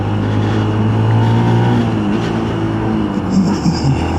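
Motorbike engine pulling up through the gears on a road, a close, loud drone that rises in pitch with small dips at gear changes and no speech over it.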